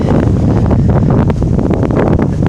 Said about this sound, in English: the gusts are still coming.